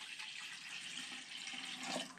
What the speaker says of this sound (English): you could dump that 2 cups of water in there